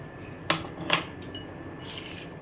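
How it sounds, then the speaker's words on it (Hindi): A metal spoon stirs sabudana khichdi with salt in a pan, making a few light clinks and scrapes against the pot at an uneven pace, close and fairly quiet, with no one speaking. "और अच्छे से चला देंगे। इसी समय में नमक भी डाल देंगे।"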